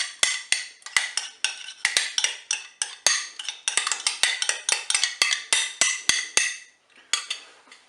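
A utensil clinks steadily against a bowl while saffron is stirred into crème fraîche for a Cookeo mussel recipe, with sharp close taps in a quick, even rhythm and no talk.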